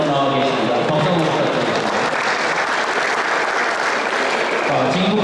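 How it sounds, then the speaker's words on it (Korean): Sustained applause from the audience at the opening ceremony of a Gyeonggi Province tennis tournament, loud and steady throughout, with faint voices underneath. "박수 한번"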